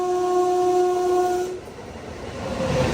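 A lone railway locomotive on an Indian line passing near the station and river crossing, its horn sounding in steady tones for over a second before cutting off into rolling rail noise and rumble.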